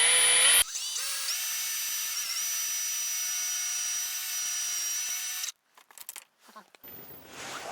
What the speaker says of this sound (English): Now we'll start drilling our holes for our screw mounting.